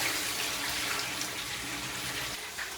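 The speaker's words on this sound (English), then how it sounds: "So I'll wash this one more time again." Rice is rinsed under a running kitchen tap, a steady close hiss of flowing water with faint splashing throughout.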